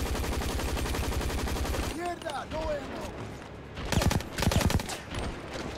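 Shotguns, crossbows and combat bows firing in a video game, heard as a dense run of rapid, loud repeated shots, then a brief lull with game effects, followed by more bursts of gunfire.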